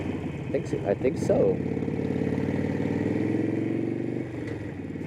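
Harley-Davidson Sportster motorcycle rumbling steadily nearby, its engine note swelling briefly as it passes, with a short spoken exchange over the top.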